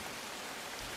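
Heavy monsoon rain pours down over Mumbai as a steady, even hiss of falling water, faint and constant with no separate drops or voices standing out.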